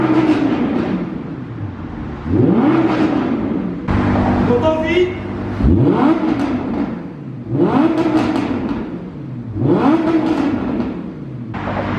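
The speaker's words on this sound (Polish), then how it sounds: "bardzo fajnie będzie słychać, jak z daleka ten silnik brzmi" A 610 HP Audi R8 V10 Plus is heard from a distance near a viaduct. Its engine rises and falls in a series of revving sweeps, swelling and fading as it accelerates, with occasional voices.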